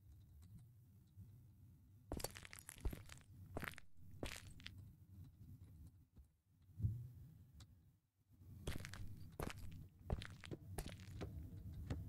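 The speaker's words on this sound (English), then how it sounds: "I'm scared of my own footsteps." Footsteps in the horror video game The Guest, a quiet run of separate crunching steps, each one sharp, in irregular bursts over a low hum with short pauses between.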